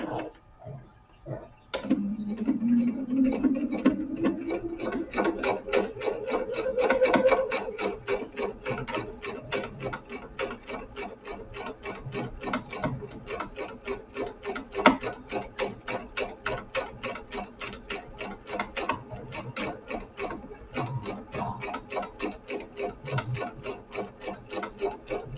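A sewing machine stitches a placemat made from a dish mat and jelly roll fabric strips, a fast, even mechanical ticking that runs steadily and close, with the motor whirring up at the start.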